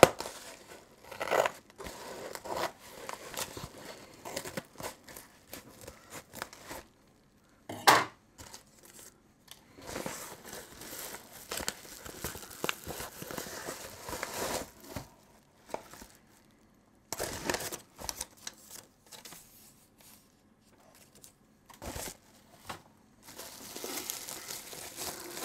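Someone cuts and tears open the cardboard and plastic packaging of an HDMI to USB capture card box, with intermittent crinkling, snipping and rustling bursts separated by quiet pauses.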